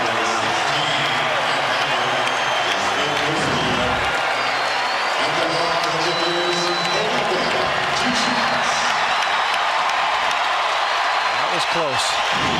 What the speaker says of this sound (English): This crowd is on their feet wanting me to get it.